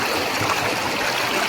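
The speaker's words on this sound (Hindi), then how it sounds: "झरना को आप रोक नहीं सकते हो।" Waterfall at Chuvan Ashram near Lalitpur in India, pouring steadily as a dense, continuous rush of water that stays loud and even with no break and no voices.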